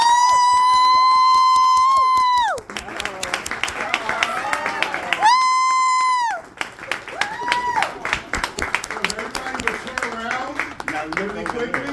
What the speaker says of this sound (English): ladies and gentlemen, if you would, make a big round of applause